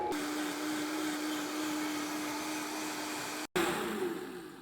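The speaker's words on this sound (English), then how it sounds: "Once the blender starts going, then you could increase the speed." Blender running on hot soup, a steady whirring motor hum with a sustained tone, briefly cut off then resuming louder and gradually easing, close and without talk.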